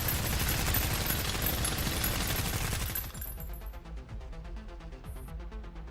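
Gunfire from the video game Girls' Frontline, a dense rapid burst of automatic shots for about three seconds, then a lighter patter of scattered pops and distant rumbles.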